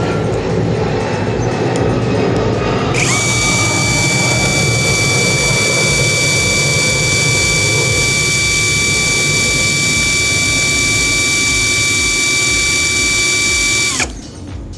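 A cordless brushless impact drill running in its second speed gear gives a steady high whine that holds evenly for about eleven seconds, then cuts off, over a constant background hum.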